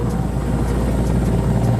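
A military helicopter's rotor thumps in a fast, steady chop, loud and close, with engine drone underneath and no voices.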